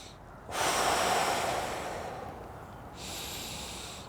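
Slow, deep breaths during a qigong stretch, a long audible inhale or exhale followed by a second breath, close to the ear over a steady room hiss.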